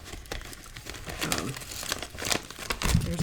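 A plastic package holding scissors is handled nearby, giving irregular crinkles and crackles of varying loudness with no talking.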